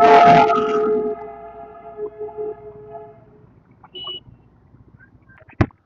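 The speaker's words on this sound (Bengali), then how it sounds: "এই দেখো পরপর পরপর সব টয় ট্রেন যাচ্ছে" A Darjeeling toy train gives a loud horn blast at the start, then fades into quieter engine and rail noise with a few short clanks and a sharp click at the end.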